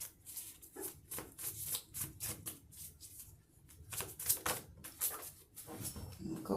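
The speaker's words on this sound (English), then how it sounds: "And I'll shuffle now until something wants to pop out and tell me about" Tarot cards shuffled by hand in a quick series of soft, papery riffles and slaps, close and fairly quiet, with no talking.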